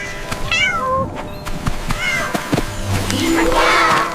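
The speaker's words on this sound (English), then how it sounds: "C for cat." A cat meows repeatedly, several clear, rising-and-falling cries in quick succession close by, set over a cheerful backdrop of other sounds in a children's alphabet song.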